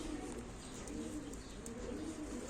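Pigeons, Turkish black tumbler play birds, cooing in a low, continuous murmur with overlapping calls, close by and steady, with faint chirps above and no talk.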